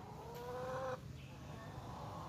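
A short call from chickens, including roosters, on a farm, heard up close over a steady low background hum for under a second before fading into quiet ambient noise.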